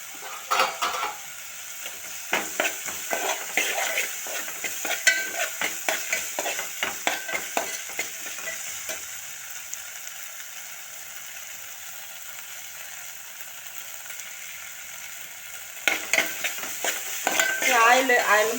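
Ginger paste fries in a pan while a spoon scrapes and stirs it in busy bursts over a soft sizzle, the stirring pausing midway before starting up again near the end.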